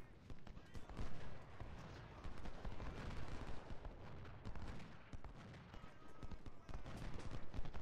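Massed musket fire crackles through a Civil War battle at Fredericksburg in Ultimate General: Civil War, with dense, overlapping shots rolling on steadily and loudly across the whole stretch, swelling and dipping without pause.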